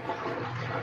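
A toilet flushes with a loud, continuous rush of water churning in the bowl, the water striking from two sides rather than swirling in a circle; the roar is steady and close, with no talk over it.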